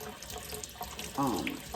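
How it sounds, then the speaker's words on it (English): Tap water runs over raw turkey wings being rinsed in a kitchen sink, a steady close splash that swells louder near the end. "we're just going to wash them good. Just with some plain water"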